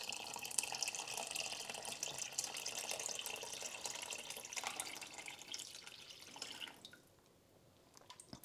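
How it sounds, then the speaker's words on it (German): Water poured into a nearly full Thermomix TM5/TM6 mixing bowl of tomato soup, a steady close splashing stream that thins and stops near the end, no talking. "500 Gramm Wasser, oh, Mixtopf wird wirklich schön voll"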